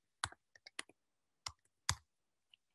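Several sharp, separate keystroke clicks on a keyboard as a word is typed out, coming in small irregular bursts with short gaps between them, close and fairly clear against an otherwise quiet background.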